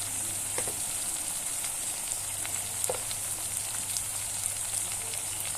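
Masala kichidi frying in a pan with turmeric added, a steady bright sizzle with occasional pops and stirring scrapes, close and continuous with no talk.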